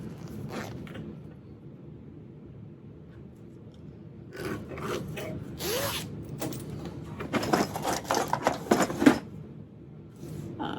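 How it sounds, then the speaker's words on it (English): Zipper pulls on bags are handled up close, giving quiet rubbing and rustling that build into bursts of quick rasping zips near the end, with no one talking. "I definitely mix zipper pulls on bags."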